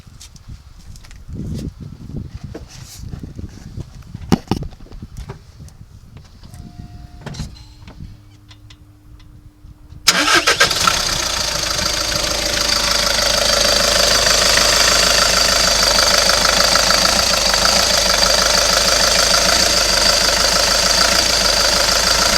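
A VW Passat B7 engine, just fitted with a new auxiliary belt, cranks and fires about halfway through after quiet workshop clatter, then settles into a loud, steady idle for the remaining seconds.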